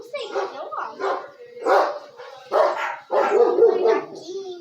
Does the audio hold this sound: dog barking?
yes